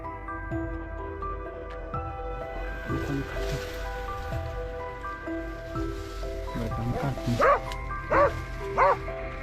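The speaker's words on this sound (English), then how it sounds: "the sudden barking of hunting dogs signaled the beast's location." Hunting dogs bark while a team closes in around a rice field during a wild boar hunt, the yips and bow-wows scattered and moderately near over steady outdoor ambience, with a louder cluster of barks toward the end.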